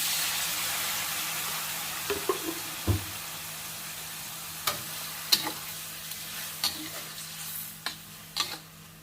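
Pork belly stir-fries in a pan for a spicy bean dish, with a continuous sizzle and repeated sharp clacks of a utensil scraping and tossing the meat, and no talking.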